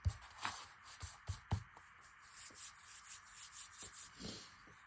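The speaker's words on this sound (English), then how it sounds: "There I go, rubbing my fingers again." Fingers rubbing over paper on a decorated envelope for a junk journal pocket, giving a run of soft, close brushing and scraping strokes with a few sharper taps early on, with no one talking.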